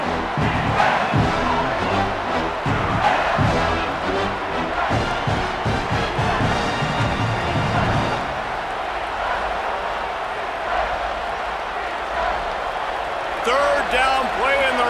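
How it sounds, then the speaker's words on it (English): A packed stadium crowd in the College Football 27 video game roars nonstop at fever pitch late in a Virginia Tech vs Clemson fourth quarter, a dense, loud wash of cheering under a play-by-play commentator's voice throughout. "this crowd is at fever pitch"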